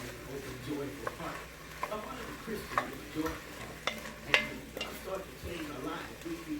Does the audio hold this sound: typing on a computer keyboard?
no